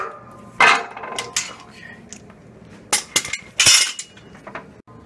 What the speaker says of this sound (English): at this point I'm going to remove the bearing housing